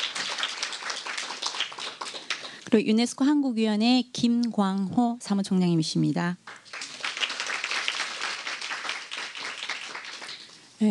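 An audience at a UNESCO session of the 2019 Jeju Forum applauds introduced guests. Scattered clapping runs before and after a short stretch where a presenter speaks.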